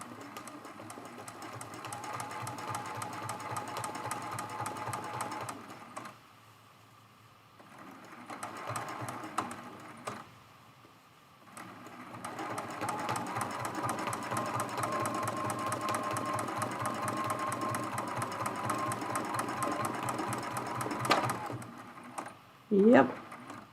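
A sewing machine stitches a mug rug, tracing the inside of a letter O, running in long steady bursts with a brief pause midway and a sharp knock near the end, while a person talks over it.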